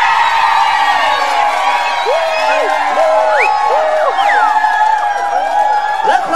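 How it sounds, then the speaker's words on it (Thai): An audience screams and cheers loudly for Hia Po in a comedy sitcom, a sustained wall of high-pitched shrieks and whoops, close and continuous throughout. "ใครเชียร์เฮียปอขอเสียงกรี๊ดดังๆ"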